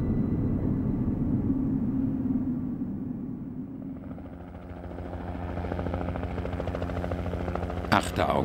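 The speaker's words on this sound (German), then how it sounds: "kann ein Hubschrauber der Schweizer Rettungsflugwacht die vollkommen verschneite Wand absuchen" A Swiss rescue helicopter searches a snow-covered Eiger north face, its rotor a steady, fairly loud drone with a voice speaking over it.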